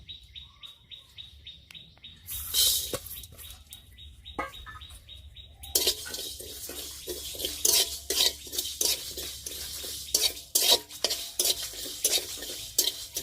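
Coriander, fennel, cumin, panch phoron and dried chillies dry-frying in a wok, heard as scraping and stirring clinks that turn to a dense, bright rustling sizzle, with birds chirping in the background.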